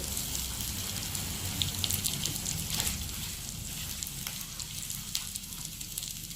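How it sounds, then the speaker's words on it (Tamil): Chili, ginger, cumin and curry leaves frying in hot oil for temple-style curd rice give a steady, fairly quiet sizzle with scattered crackles and pops, heard alone with no talk. "நல்லா இப்போ பொரிஞ்சிடட்டும்."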